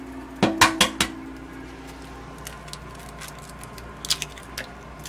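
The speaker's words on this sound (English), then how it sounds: "I could crack them both in one bowl because let's do them one at a time." Room-temperature eggs are cracked one at a time against a bowl in a home kitchen while making a cheesecake, a quick cluster of sharp knocks, then a quieter pair of taps a few seconds later.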